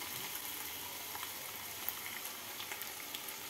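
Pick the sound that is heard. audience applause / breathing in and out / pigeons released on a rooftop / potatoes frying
potatoes frying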